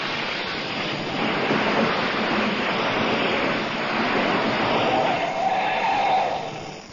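Truck arriving in an old radio show sound effect, a continuous rushing engine and road noise that swells slightly, lo-fi and moderately loud.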